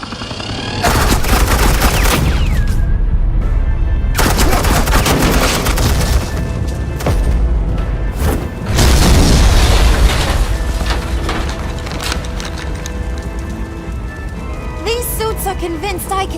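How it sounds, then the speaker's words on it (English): Loud, sustained bursts of suppressing gunfire and booming explosions from the Batman: The Enemy Within video game, with rapid volleys, brief lulls and voices speaking through the chaos. "suppressing fire"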